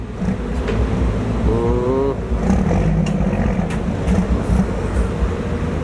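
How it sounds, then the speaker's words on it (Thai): 22-wheel trailer truck driving off to dump soil at a large earthworks pit, a steady loud engine rumble close by with brief squeaky mechanical whines over the drone. "ตอนนี้ รถกำลังไปเทครับผม"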